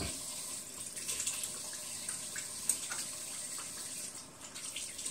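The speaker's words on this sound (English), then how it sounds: "I want to wash my hands real quick" Tap water runs steadily into a bathroom sink during hand washing, a soft continuous hiss with slight splashy variation, fairly quiet and close, with no talking.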